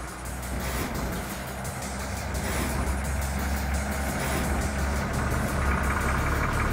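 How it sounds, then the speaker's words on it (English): A 1960s Leyland Super Comet truck with a crash gearbox drives along, its engine giving a steady loud rumble that rises slightly partway through, heard up close from the cab without voices. "this is a crash box, so gear changing is a bit of an art, which I'm just about getting hold of."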